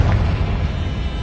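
Confringo blasting spell exploding in the Hogwarts Legacy video game: a loud, deep boom with a sharp onset that rolls on as low rumble for about a second, with no voices.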